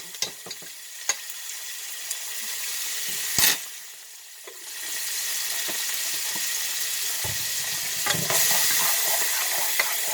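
Garlic and onions sizzling steadily in a pan of spaghetti sauce, with occasional stirring knocks and a loud spatula scrape, the frying hiss swelling louder toward the end; no one speaks.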